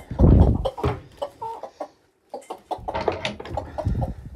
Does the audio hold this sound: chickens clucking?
yes